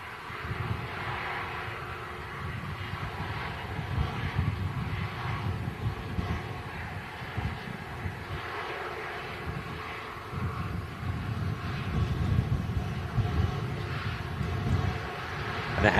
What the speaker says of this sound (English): Gorgeous aircraft, this A330 Neo.